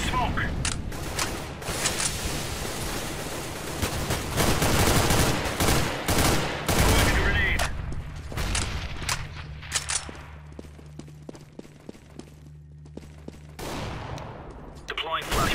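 Gunfire in the video game CS:GO, with dense bursts of automatic fire and shots, loud and continuous in the first half, then sparser single shots and clicks later.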